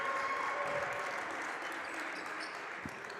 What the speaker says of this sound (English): claps and affirmations coming in for Lions